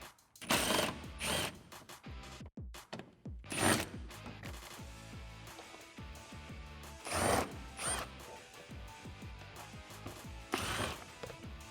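A ratchet works loose the bolts holding the air dam on a 2016-2019 Toyota Tacoma, close up in several quick bursts of rapid clicking separated by short pauses.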